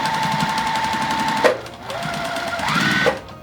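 A sewing machine stitches a seam across a fabric bag, running steadily and loud up close, pausing briefly, then starting up again with a rising whir.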